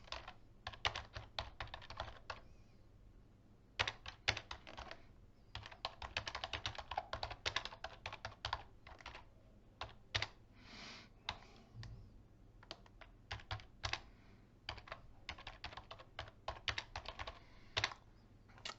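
Fingers type on a computer keyboard in rapid irregular bursts of close, crisp key clicks, with short pauses between runs, heard alone without talking.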